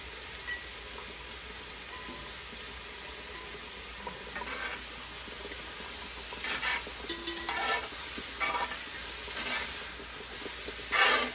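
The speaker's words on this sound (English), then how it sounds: "We're gonna let these fries cook." A couple handfuls of fries fry in a little oil in a pan over an open fire, giving a soft, quiet sizzle with brief brighter bursts of crackling and hiss.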